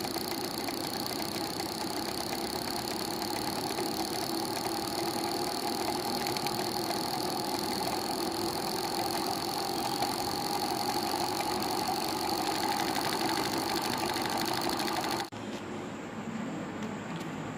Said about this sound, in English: here look at the 3D high efficiency motor